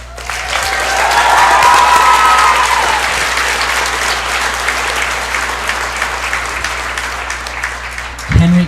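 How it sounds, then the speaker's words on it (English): Audience applause at a 5th grade graduation ceremony as an award winner is called up, sustained and fairly loud clapping from a crowd lasting several seconds, with a brief thump near the end. "We'll give you a round of applause"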